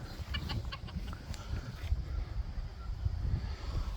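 Ameraucana hens cluck softly and steadily in a chicken pen, with repeated short calls over a low, breezy outdoor background.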